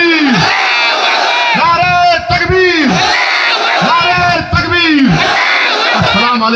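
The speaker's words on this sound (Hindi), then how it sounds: "तो मेरे साथ लगाइए नारा, नारे तकबीर, नारे तकबीर, नारे तकबीर।" A large rally crowd roaring a religious slogan in unison, three loud rhythmic chant waves answering a leader's call, with a voice leading between them over a noisy open-air gathering.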